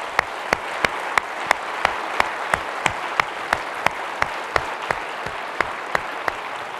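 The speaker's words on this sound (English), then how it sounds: "I think they all deserve quite a warm round of applause" A conference audience gives a steady round of applause at a closing session, a continuous wash of clapping with sharp, evenly spaced rhythmic claps standing out, fairly loud and without voices.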